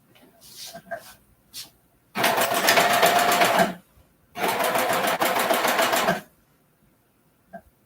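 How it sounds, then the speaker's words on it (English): A cover stitch sewing machine runs two loud, steady bursts of stitching along a seam, each lasting about one and a half seconds, separated by a short pause, with brief handling clicks before and after. "I need to be using my cover stitch machine"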